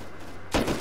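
Airsoft gun shots: after a low murmur, a quick cluster of sharp, loud snapping pops bursts out near the end.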